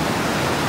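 Water splashes and pours out in a brief, loud, steady rush of broadband noise with no talk over it.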